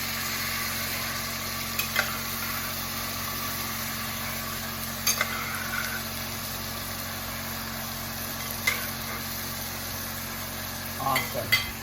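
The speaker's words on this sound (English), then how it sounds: "so now we're adding in our black eyed peas" Black-eyed peas sizzle in a hot pan for soup, a steady broadband frying hiss with a low constant hum beneath and a few brief scraping or clattering bursts from stirring.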